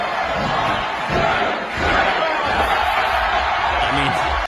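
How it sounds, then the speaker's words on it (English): Roaring wrestling arena crowd, a loud continuous wash of cheering and yelling from many people, sustained throughout with slight swells. "listen to that crowd. It's going crazy."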